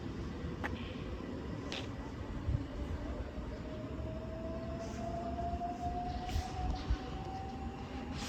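A C2C class 357 electric train departs Barking for Southend Central, a steady rumble of wheels with a rising motor whine climbing gradually in pitch, plus a few faint clanks at a moderate distance.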